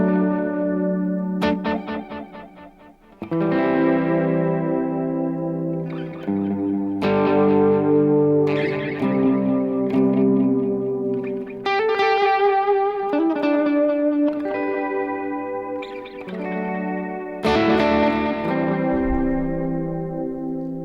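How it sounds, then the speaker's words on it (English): Electric guitar running through a Teenage Engineering EP-133 KO II modulated delay with length and feedback at noon, sustained chords and single notes smeared by wobbling, repeating echoes that blend into a dense wash, loud and alone. "So a modulated delay"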